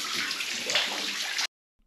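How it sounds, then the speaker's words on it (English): Water pouring and splashing into a 122-foot brick-lined coal mine shaft in Lancashire, a steady rushing flow that cuts off abruptly near the end. "You can see all the water ingress that's going into it, and this is on a dry day"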